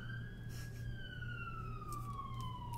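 An emergency vehicle siren passes outside in a steady, continuous wail that slowly drops in pitch as it moves away, heard at moderate distance over a constant low hum.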